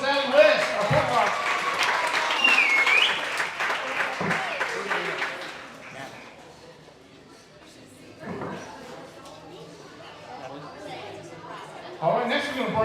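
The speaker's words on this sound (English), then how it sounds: "give a big round of applause for Miss Allie West, our point guard" Crowd applause in a gym for a girls' basketball point guard at a coach's show, a burst of clapping for about five seconds that tapers off into murmuring chatter, with a voice speaking afterward.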